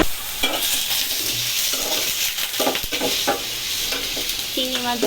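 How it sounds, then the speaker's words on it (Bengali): Prawns frying in a pan, a steady hissing sizzle broken by repeated scraping stirs of a utensil against the pan, close up and without talk. "চিংড়ি মাছ ভাজা হচ্ছে"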